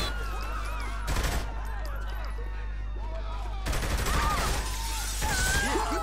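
Rifle fire and chaotic gunfight bursts from Saints Row The Third Remastered, aimed at snipers, come in loud clusters over steady game background noise.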